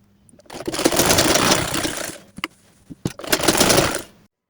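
Sewing machine stitching the side seam of salwar pants, two loud close bursts of rapid whirring stitching separated by brief clicks and a pause, ending in silence.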